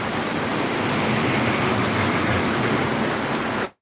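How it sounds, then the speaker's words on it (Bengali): Heavy monsoon rain pours down in Phulpur, a dense, loud, unbroken hiss of falling water that runs steadily before cutting off abruptly at the very end. "ফুলপুরের বর্ষা আসছে বৃষ্টির অবস্থা"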